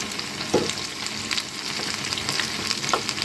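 Curd vadas (perugu vada) fry in hot oil with a continuous crackling sizzle, punctuated by a few clinks and stirring sounds from a utensil in the pan.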